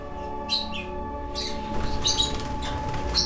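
Green parrots chirp in a cage enclosure, giving bright, sharp tweets in short bursts over steady background hum, moderately close and repeating irregularly.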